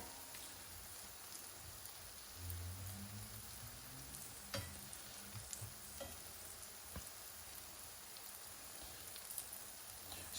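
Sliced courgette and garlic frying gently in a pan over low heat, a soft, steady sizzle with a few faint clicks and stirring knocks, heard alone without talk.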